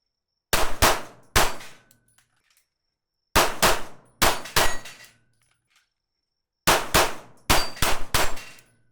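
Pistol shots from an Atlas Titan ring off steel targets in three quick bursts of two or three loud, sharp cracks each, with short silent gaps between the strings.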